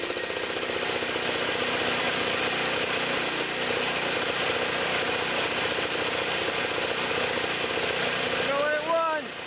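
A Toro Power Clear 621 snow thrower with a 163cc OHV four-cycle engine runs steadily at a fast idle with the choke on, a continuous close mechanical drone that holds unchanged throughout.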